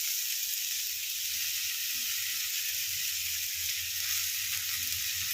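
Boiled chowmein noodles tossed into a pan with sliced tomato let out a steady close sizzle and hiss, with faint stirring scrapes underneath and no voices.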